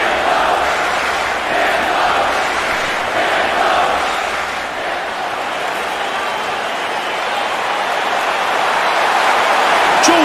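A large arena crowd roars steadily as José Aldo walks out to the UFC Octagon, a loud, dense and unbroken wall of cheering for the whole stretch.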